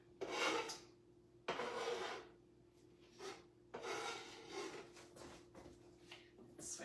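A bench scraper pushes chopped onions off a cutting board into a bowl while black bean chili is being made: several quiet, close scraping and sliding strokes in separate bursts with short pauses between.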